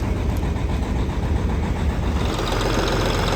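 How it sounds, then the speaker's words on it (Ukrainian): A Kenworth truck's diesel engine idles in freezing cold while warming up, a steady, loud, dense rumble with a slight shift in tone near the end and no talk. "Все, кенвордик працює нормально, потім мороз. Так що все добре, зараз він прогріється"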